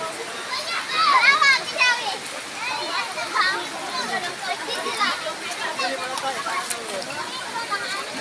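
People bathe in a river in Balingasag, Misamis Oriental, with steady rushing water and splashes beneath the lively chatter and shouts of children and adults.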